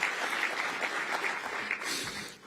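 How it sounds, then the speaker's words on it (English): Audience applause at a morning Pancakes and Politics breakfast event in Metro Detroit, a short burst of lively clapping from a room of people, fairly close and steady. "Give yourself a round of applause."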